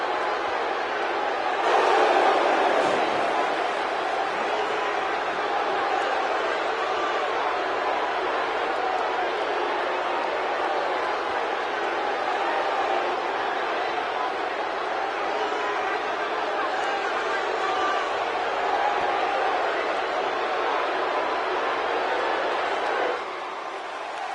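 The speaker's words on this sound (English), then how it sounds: "Will you listen to the buzz in the crowd?" A large indoor arena crowd at WWE WrestleMania 22 in Rosemont hums and murmurs steadily for the whole stretch, a dense reverberant babble with no single voice standing out.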